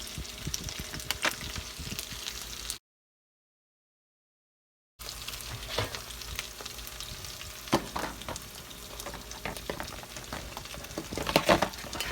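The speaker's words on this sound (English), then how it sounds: "The chicken tender is fried in fish batter and grapeseed oil." Chicken tenders coated in fish batter fry in grapeseed oil with a steady crackling sizzle and scattered pops, broken by a short stretch of silence before the bubbling resumes.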